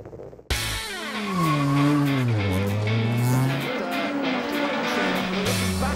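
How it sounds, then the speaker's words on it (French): BTCC touring race cars at a British circuit, 2010 season, accelerating hard with loud, rising engine notes and gear-change sweeps, one car passing close while others roar behind, tyres squealing. "Ils accélèrent vraiment à fond et chauffent les 10 meilleurs circuits d'Angleterre, les voitures de course du BTCC"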